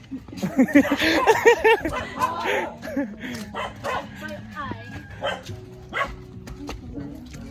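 A dog barks and yips in a rapid flurry up close, then quieter whimpers and occasional barks follow while people talk nearby.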